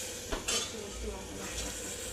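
Spices temper in hot oil for misal, a soft sizzle under a few sharp metallic clinks of a spoon against the pan, quiet and close.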